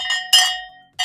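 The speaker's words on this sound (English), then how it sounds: "I don't think we rang the bell for my game here." A handheld bell rung for a savings game gives three bright metallic strikes, each ringing out and decaying, close and loud with no talking.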